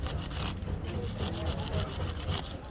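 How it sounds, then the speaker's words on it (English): A stiff iron brush scrubs caked gunk off a wheel bearing in quick back-and-forth strokes, a steady close scratchy rasp repeating through the moment. "I'm gonna get all these gunks out using an iron brush, and also as well use a carburetor cleaner"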